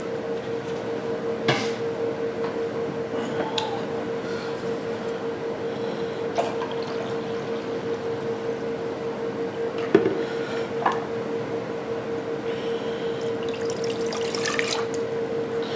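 White vinegar pours into a measuring container for a pickling brine for canned banana peppers, a soft, close trickle under a steady background hum, with a few small clinks and no talk.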